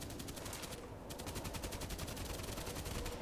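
Rapid automatic gunfire in a shooter video game, a dense steady rattle of shots running almost throughout with a brief lull near the start.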